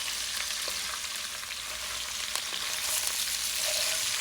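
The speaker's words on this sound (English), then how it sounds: "You hear that liquid being introduced." Steady broadband sizzling from a hot roasting pan as liquid is added while making tortilla soup, with a few brief clicks and stirring scrapes throughout; the frying hiss swells slightly louder near the end.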